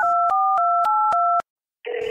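Telephone touch-tone dialing as a call is placed: a quick run of six sharp, evenly spaced dual-tone beeps, then a short silence before a ringback tone begins, all clear and close with no talk.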